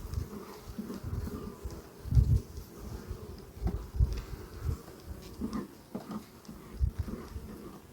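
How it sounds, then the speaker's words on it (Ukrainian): Low, steady insect buzzing close by, swelling and fading in short bursts over quiet outdoor background rustle; no voices. "Навіть бджола є."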